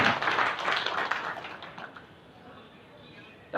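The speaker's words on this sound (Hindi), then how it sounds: "तालियां थोड़ी कम बजी।" Scattered audience clapping at a political rally in Madhya Pradesh, moderately loud at first and then thinning out into sparse claps and quiet murmuring.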